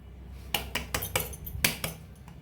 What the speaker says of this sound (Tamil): இப்போ அதையும் நல்லா ஒரு கிளறி விட்டுருக்குவோம்